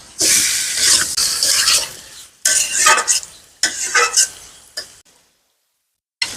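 Chicken dropped into a pan of lightly fried onions: loud bursts of sizzling and frying with a spoon scraping and stirring against the pan, broken by short pauses and ending in near silence.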